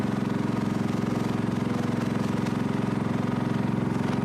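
A plaster batch mixer runs with a steady, throbbing engine drone and a rapid regular pulse, loud and constant, with no speech.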